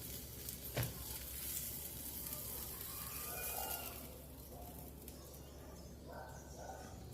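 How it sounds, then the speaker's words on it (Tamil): Hariyali paneer tikka roasts in a pan with a soft steady sizzle, faint and close, with a brief knock early on and light crackling throughout. "இப்போ இதை எடுத்துகிட்டு மீதி இருக்கிற பன்னீரையும் நம்ம ரோஸ்ட் பண்ணி எடுத்துக்கலாம்"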